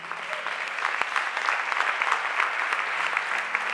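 A church congregation applauds, steady dense clapping from a crowd at moderate distance, continuous throughout with no talk.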